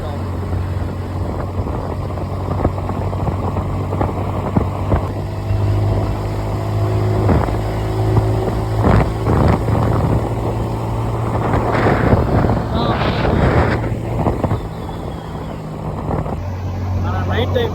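A normal motorbike with a full tank cruising on the road at night between Chennai and home, steady low engine drone and wind rush throughout, with a voice talking over it.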